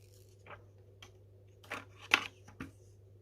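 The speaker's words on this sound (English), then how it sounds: "let's just peel this off" A protective sticker is peeled off the back of a smartphone, heard as a few faint, brief crackles and ticks spaced apart over a low steady hum.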